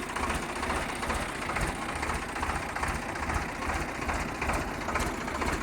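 A 2011 Sonalika 745 tractor engine idling nearby, a steady low rumbling chug with a faint knocking pulse throughout, no voices.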